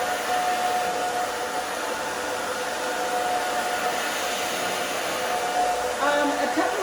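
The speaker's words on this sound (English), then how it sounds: "A couple of tips while I'm blow drying." A hair dryer blows steadily and loudly while long hair, freshly colored blonde and red-brown, is dried; a continuous close airy roar holds throughout with a slight shift near the end.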